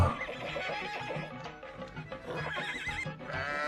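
A horse neighs in a long, loud, wavering whinny that fills the whole stretch, close and alone with no talk.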